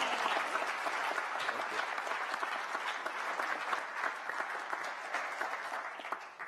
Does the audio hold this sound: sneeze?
no